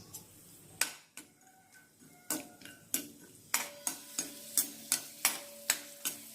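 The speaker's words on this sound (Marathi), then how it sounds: "मंद गॅसवर आपण पहिले ड्रायफ्रूट्स फ्राय करून घेऊया। काजू टाकूया, मनुका आणि बदाम।" Cashews, raisins and almonds fry gently in ghee over a low flame, a soft sizzle punctuated by a regular series of sharp spoon taps and scrapes against the pan.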